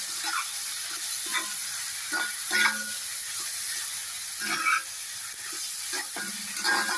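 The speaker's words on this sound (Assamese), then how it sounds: "অলপ সময় এনেদৰে ভাজি দিওঁ।" Goat mutton fries with salt, turmeric, coriander and cumin powder in a sizzling pan, a steady hiss broken by repeated scraping stirs at close range.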